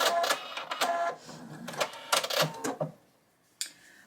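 Sewing machine stitching a fabric coaster, quick mechanical whirring bursts with short pauses between them, close, ending in near quiet and one brief final whir.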